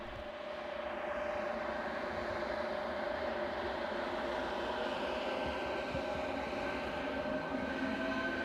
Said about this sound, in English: This Class 471 unit departs for Kolín.